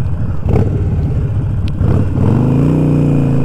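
A car passes close by, a loud broad engine and road rush swelling and holding steady over a few seconds, recorded from the roadside.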